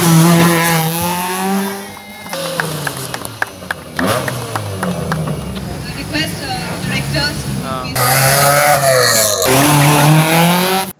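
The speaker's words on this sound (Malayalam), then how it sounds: "പോപ്പുലർ റാലി 2018 കൊച്ചിയിൽ ഫ്ളാഗ് ഓഫ് ചെയ്തു" Rally cars roar at the Popular Rally 2018 flag-off in Kochi, engines revving loudly with tire squeal and skidding over a dense crowd and public-address din, surging again near the end.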